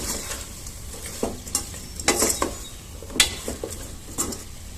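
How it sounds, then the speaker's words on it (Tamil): Chilli powder and sambar powder are stirred into a pot of drumstick and tomato sambar, with a ladle scraping and clattering repeatedly over a soft, continuous sizzle close by, and no voices. "இது எல்லாத்தையும் நல்லா கிளறி விட்டுக்குவோம்"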